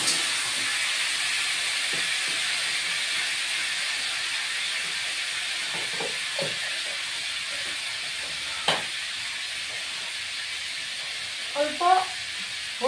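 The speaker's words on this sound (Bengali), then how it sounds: "তেল গরম হয়ে গেছে, এবার কাঁঠালটা দিয়ে দিই।" Jackfruit pieces fry in hot oil with a continuous hissing sizzle at moderate level. Scattered clinks and a few spoon or utensil taps break in near the end, and there is no talk.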